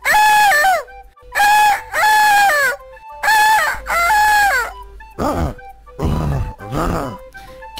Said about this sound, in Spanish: El primer personaje que os presentaré será el señor Gallo.